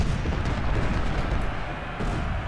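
Continuous rumbling battlefield din from Ultimate General: Civil War at Stones River, with artillery from 12-pounder cannons booming in a dense, loud wash that carries no distinct single shots.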